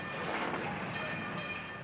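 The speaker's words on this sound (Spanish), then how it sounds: "Estos tranvías funcionan con electricidad." An electric tram rolls along rails, a steady, moderately loud rumble with a grinding, hissing wheel-on-track texture and faint high squeals, with no voices.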